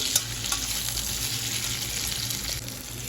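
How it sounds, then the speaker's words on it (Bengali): Pumpkin and potato pieces fry in a pan with a loud, continuous hissing sizzle heard close up, broken by a few faint scrapes, and no one talks. "কুমড়ো আর আলু ভেজে নিচ্ছি"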